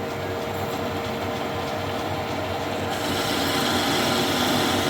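A machine cutter plunges into a metal part while building a handmade custom bike shock mount, giving a loud, steady grinding whir with no talk. Partway through it grows slightly louder and harsher.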